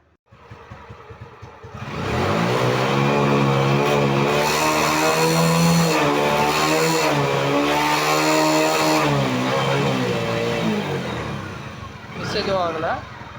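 A Suzuki motorcycle fitted with a replacement CDI unit starts up and runs. The engine settles into a steady, even close-up idle with a firm rhythmic firing note, then it is briefly blipped near the end.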